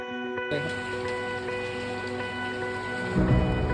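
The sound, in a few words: heavy monsoon rain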